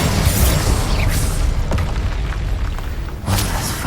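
Loud booming blasts of Confringo and Incendio fire spells going off in Hogwarts Legacy combat, a heavy burst at the start and another near the end, with rumbling crackle between.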